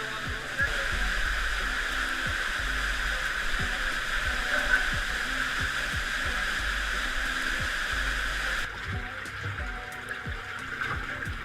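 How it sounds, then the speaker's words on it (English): Waterfall inside a small cave cavern, a constant rushing roar of falling water with low rumble, close and loud, softening slightly near the end. "The small cavern with the waterfall is as far as you can go."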